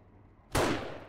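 A single loud gunshot from a rifle in the survival video game 7 Days To Die, a sharp blast from near silence that decays over a second, with no talk.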